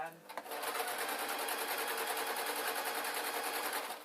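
A sewing machine stitches a Downton Abbey style dress, running in a fast, steady, continuous whir from start to finish after a brief click at the outset.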